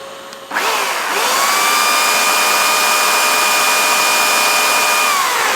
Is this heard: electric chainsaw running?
yes